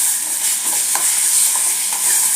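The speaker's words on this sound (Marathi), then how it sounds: "ते वांग मिक्स करून घेऊया याच्यात गॅस बारीकच ठेवायचा आहे" A spatula stirs mashed eggplant in a pan over a low flame, a steady soft sizzle with light scraping strokes, close and continuous, with no voices.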